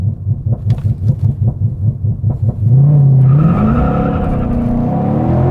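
A drag racing car revs in rapid pulsing bursts at launch, then surges into a loud sustained rising engine roar as it accelerates hard, close and dominant.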